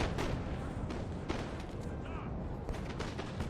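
Cannons firing round shot in the Napoleonic battle game Napoleon: Total War, several sharp booming reports scattered over a dense rumbling battle din, with someone talking at times.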